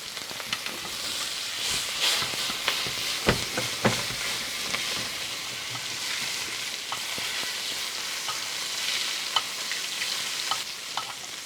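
Butter sizzling in a pan with rosemary, pressed garlic and steak, a steady close frying crackle with scattered sharp pops and spoon taps, no voices.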